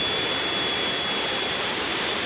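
Engine 4 of a Boeing 747-8F spooling up in the X-Plane 12 flight simulator, a steady loud broadband jet roar with a thin high whine running throughout.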